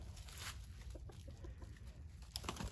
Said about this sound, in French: En tout cas, voilà un beau coq.